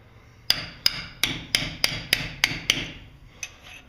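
Nine sharp metallic hammer taps knocking back a bent outer lock tab, evenly spaced and ringing, close up, with one last lighter tap after a short pause.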